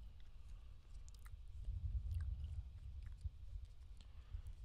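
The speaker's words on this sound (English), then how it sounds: "in the background you'll hear some chewing gum" Gum chewed close up in a quiet setting, soft wet smacking and squishing sounds repeating steadily at low volume, with no talk.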